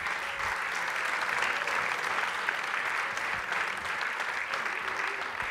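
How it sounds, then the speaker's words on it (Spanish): Applause from the audience at a national cooking contest, a steady wash of clapping that holds for several seconds at moderate volume with no voices over it. "Un aplauso para Valentín."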